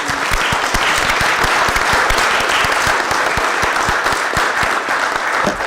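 Steady, loud applause fills a council chamber in Oswego, New York, as the room honors the city's firefighters at a common council meeting. Many hands clap continuously throughout with no talking.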